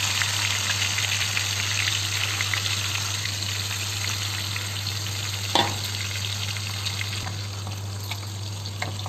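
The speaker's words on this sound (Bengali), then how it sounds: "তাহলে একটু কড়াই কষিয়ে নিই" Chicken sizzling and frying in a wok while being sautéed for biryani, a steady loud crackle with occasional stirring scrapes and one sharp clank, no talking.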